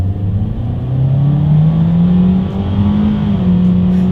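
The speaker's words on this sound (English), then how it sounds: "We're gonna do a quick little acceleration test, and let's see how quickly we can get our new 2022 Kona here up to speed." A 2022 Hyundai Kona accelerating hard from a standstill in a straight-line test, its engine note climbing steadily through the gears as a loud, continuous drone close to the car.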